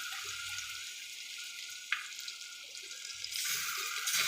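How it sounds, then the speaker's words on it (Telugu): Eggs frying in melted butter in a pan, giving a steady, bright sizzle and crackle that swells louder partway through, with a brief sharp pop. "ఎగ్స్ ఫ్రై చేసుకుందామండి"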